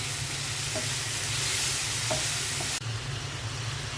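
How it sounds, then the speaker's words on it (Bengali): Fish coated in turmeric and chili sizzles and hisses steadily in a pan, with a few faint scrapes of stirring, and a brief drop in the noise near the end. "হলুদ মরিচ দিয়ে মাখানো মাছগুলো দিয়ে দিচ্ছি। আজকে আমি কষিয়ে নেব মাছটা"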